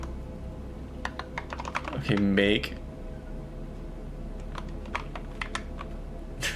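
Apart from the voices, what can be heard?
typing on a computer keyboard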